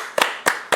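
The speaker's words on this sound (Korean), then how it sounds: "그렇죠. 박수." Three sharp hand claps ring out close by in a steady, evenly spaced rhythm, each a crisp isolated burst with quiet gaps between.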